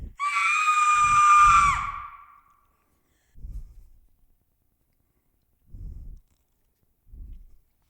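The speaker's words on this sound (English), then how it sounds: "let's move that scream over to there." A high, piercing scream rings out for about two seconds as a Halloween ghost projection effect, then fades, followed by a few soft, low thuds spaced apart in otherwise quiet surroundings.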